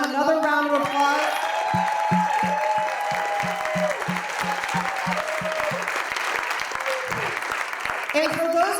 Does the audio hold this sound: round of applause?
yes